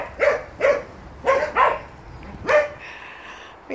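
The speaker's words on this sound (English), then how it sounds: "I can hear the other two puppies." Puppies at a doggy day care barking nearby, five short sharp yaps in an uneven rhythm with brief pauses between, heard alone without talk.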